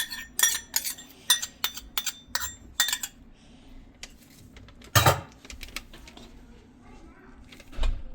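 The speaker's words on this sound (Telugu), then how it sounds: "పెరుగు కొద్దిగా ఇలా మిక్స్ చేసుకుందామండి" Curd is mixed in a bowl with ginger garlic paste for a mutton dum biryani, producing a run of sharp metallic spoon clinks against the dish, then a louder scrape and a final knock, with someone speaking over it.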